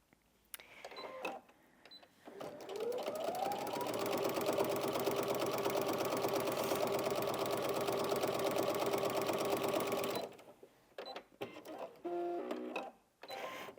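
A Brother Innov-is NV1800Q sewing machine quilting runs in one long, even burst of fast, close needle chatter and motor whir, with a brief rising pitch at the start and soft handling clicks before and after.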